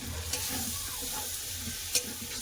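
Fried potatoes stir-fried into a thick spice paste crackle and sizzle close by, with scraping stirs and a couple of sharp utensil knocks against the pan.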